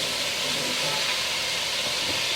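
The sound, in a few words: chopped onions sizzling in a skillet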